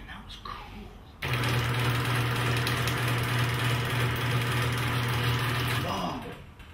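An old Crusader chain-drive machine starts abruptly and runs with a loud, steady mechanical hum and rattle for about five seconds before winding down, with a voice briefly audible at the start.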